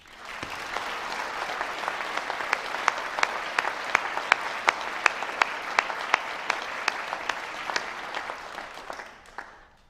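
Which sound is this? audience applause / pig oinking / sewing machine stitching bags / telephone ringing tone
audience applause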